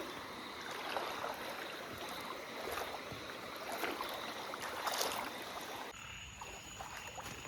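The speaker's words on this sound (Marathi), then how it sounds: "पाण्याचा फोर्स पण जास्त आहे बघ." Strong river current rushing steadily at night in a village river, where crabs and prawns are being caught; a continuous close wash and trickle of water, with no speech.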